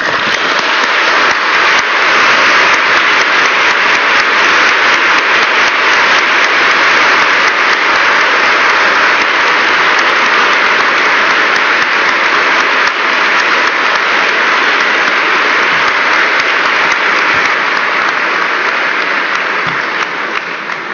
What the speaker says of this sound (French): Ces applaudissements vous disent, je crois, notre reconnaissance.